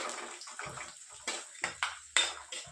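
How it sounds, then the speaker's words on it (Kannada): Peanuts frying in hot oil for a North Karnataka-style chitranna give off scattered sharp crackles and pops, a few louder snaps standing out over a faint sizzle, with no talking. "ಶೇಂಗಾ ಬೀಜ ಈಗ ಚಟಪಟ ಅಂತಿದೆ"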